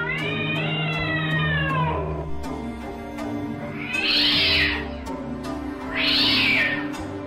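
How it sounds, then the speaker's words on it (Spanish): A mother cat meows plaintively over her kitten, starting with one long, wavering, mournful meow. Two shorter, shriller cries follow at intervals, close and clear over a quiet ambient background. "Profiriendo lastimeros maullidos que recordaban los lamentos de un ser humano"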